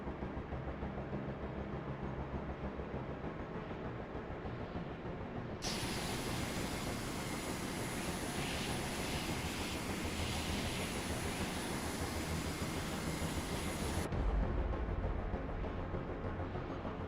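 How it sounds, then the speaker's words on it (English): A steady, broadband engine roar comes from aircraft in the naval combat game Carrier Command 2. It runs continuously as a dense rumbling drone, stepping up abruptly in brightness midway, with no talk over it. "How close is that plane?"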